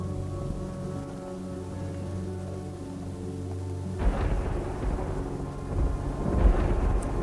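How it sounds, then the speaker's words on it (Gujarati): Heavy rain falls steadily in an Ahmedabad neighbourhood, and a deep rumble of thunder swells in partway through, then a second, louder roll follows near the end, with no voices. "અમદાવાદના બોડકદેવ, બોપલ સહિતના વિસ્તારોમાં ભારે વરસાદ શરૂ"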